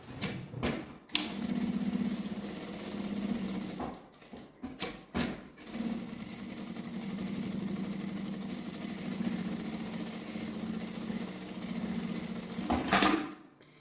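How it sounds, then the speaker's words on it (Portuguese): Sewing machine stitching around the edge of a sling backpack flap, a steady close mechanical whirr running in long stretches, interrupted by brief stops and handling noises. "agora eu vou passar uma costurinha na beiradinha em toda a volta"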